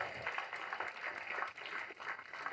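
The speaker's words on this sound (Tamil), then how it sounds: "இந்த கைத்தட்டெல்லாம் பத்தவே பத்தது" Audience applause at a DMK political stage event, a quiet, continuous patter of clapping from a crowd.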